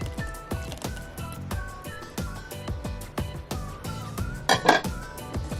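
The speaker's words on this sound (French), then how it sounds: "Puis je viens mélanger." Butter being stirred into chocolate fondant batter in a mixing bowl, giving a steady run of soft scraping and light clinking strokes over quiet background music, with a brighter clatter near the end.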